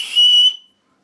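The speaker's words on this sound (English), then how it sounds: "And there's a little whistle in here," A tiny whistle from a budget survival kit gives one short, shrill blast of about a third of a second, close and loud, then cuts off into silence.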